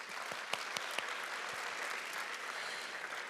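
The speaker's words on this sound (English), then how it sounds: "One more round of applause for that group." An audience at a food-sector business event applauds a panel, with soft, distant, steady clapping and a few sharper nearby claps early on.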